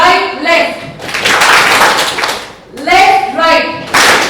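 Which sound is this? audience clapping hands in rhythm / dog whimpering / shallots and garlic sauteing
audience clapping hands in rhythm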